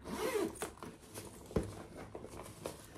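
A zipper on a tote bag pocket being pulled open and shut in several quick, close rasping strokes.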